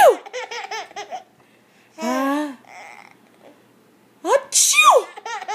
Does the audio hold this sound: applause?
no